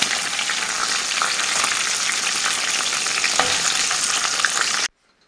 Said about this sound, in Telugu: డీప్ ఫ్రై చేసుకోవాలి అన్నీ ఇలా ఫ్రై అయ్యాయి